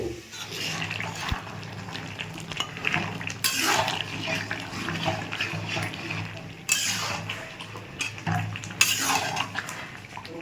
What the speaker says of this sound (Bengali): এখন মশলা কষানো চলছে